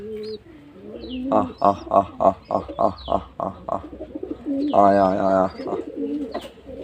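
Pigeons in a loft with two newly hatched chicks coo in a loud, close series of rhythmic pulsing calls, followed by a longer sustained rolling coo.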